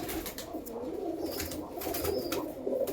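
Male pigeons coo together in a loft, a low rolling murmur that continues throughout at moderate volume, with a few faint clicks and rustles.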